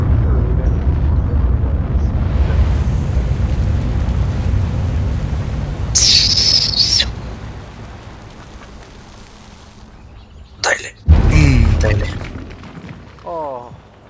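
Nuclear missile strikes in the strategy game Civilization 5, deep rumbling blasts that roll on for several seconds and then fade, followed by sharper impact bursts, with someone talking over them.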